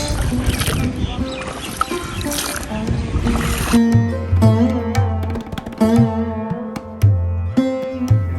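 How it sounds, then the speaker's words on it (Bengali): Rowboat on the Balu river, rowed by a boatman; broadband water and rowing noise for the first few seconds gives way to clear, close tonal layers of other sound, with steady, near splashing throughout. "খুব সুন্দরভাবে নৌকা চালিয়ে যাচ্ছে"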